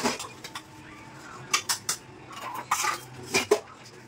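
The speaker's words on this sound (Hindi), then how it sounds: "और बर्तन धोना कम से कम आधा घंटे तो लगेगा पूरा किचन साफ़ करने में।" Dishes, pots and utensils being washed in a home kitchen sink: scattered clinks and clatters of metal and crockery, a few sharp knocks in quick clusters over faint running water, with no voices.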